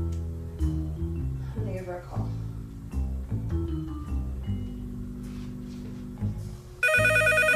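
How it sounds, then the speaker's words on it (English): A telephone rings in a home, a bright repeating electronic ring that cuts in loudly near the end over background music and voices. "Oh, the phone."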